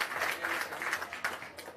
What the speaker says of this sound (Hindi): एक बार जोरदार ताली आप अपने इस प्रयास के लिए लगा लीजिए।